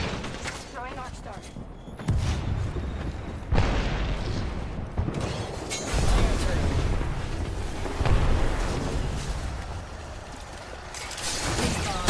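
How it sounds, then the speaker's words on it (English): An arc star grenade is thrown in a video game, then dense, roaring explosion and gunfire noise fills the scene. Heavy blasts and crackling effects stay loud and continuous, with bursts of impacts throughout. "Throwing arc star."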